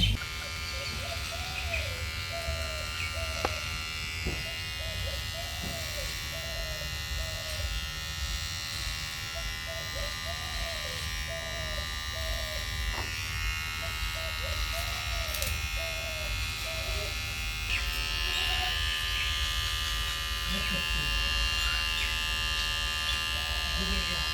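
An electric hair clipper buzzes steadily through a home haircut, a continuous close hum that runs the whole time while voices chatter intermittently nearby.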